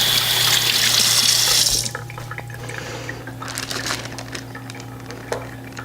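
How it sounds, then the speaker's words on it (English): Hands are rinsed under a running kitchen tap, a loud steady gush for about two seconds, then softer splashing and drips as the flow eases. "Rinse my hands."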